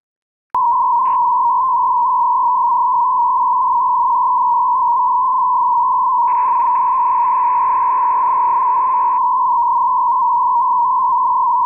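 A radio receiver picks up signal tones from an E-4 aircraft over Lake Superior: a loud, unbroken single-pitch tone runs throughout, with a short blip near the start and a few seconds of hiss layered in partway through.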